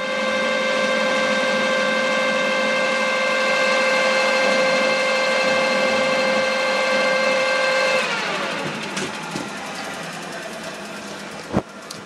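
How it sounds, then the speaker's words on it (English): A lathe-type machine cuts a weld groove into the shaft of a Nuffield steering box. A loud, steady whining hum with a strong tone runs for about eight seconds, then the motor winds down and a sharp click follows. "What I'm going to do now is machine this out so I can weld it"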